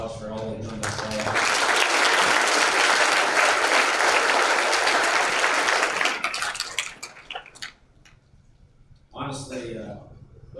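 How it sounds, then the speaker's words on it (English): Loud round of applause from a school sports banquet crowd for student athletes, sustained for about six seconds, then fading into scattered claps and brief talk near the end. "let's just start off giving these kids a round of applause for all they've done this fall"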